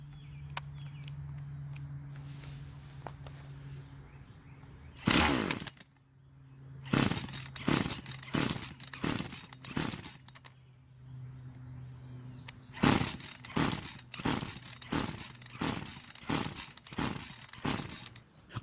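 A Husqvarna chainsaw with no primer bulb, fresh mixed fuel in the tank, being pull-started without catching: one loud pull, then steady series of sharp rhythmic recoil pulls, the engine never firing, close and loud.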